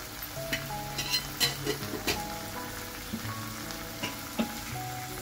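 Chili powder fries in a pan with softened tomatoes for tomato rice, with a steady close sizzle and occasional scraping stirs of a spoon, a crackling hiss running continuously under a faint background tone.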